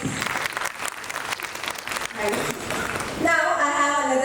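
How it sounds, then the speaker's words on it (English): An audience at a school annual function bursts into applause, a dense burst of clapping that swells and then gives way to cheering and a voice. "Give them a big round of applause,"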